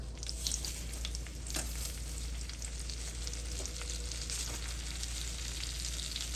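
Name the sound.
breadcrumbs sizzling in a pan with butter and olive oil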